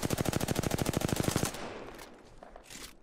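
Rapid automatic gunfire in a shooter video game, a fast loud burst of evenly spaced shots for about a second and a half, then fading into quieter game ambience.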